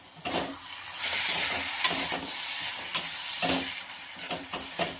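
Radish chutney with coriander-cumin powder and garam masala being stirred in a pan, with a soft sizzle under repeated close scraping strokes of a spatula, and no voices.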